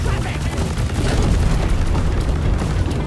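Gunfire in a multiplayer shooter video game, a dense booming burst that fills the whole moment, loud and close, with voices from the players mixed in.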